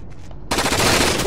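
Automatic gunfire in the video game Rainbow Six Vegas 2 erupts suddenly after a quiet half-second, a loud, dense rapid-fire burst that continues to the end.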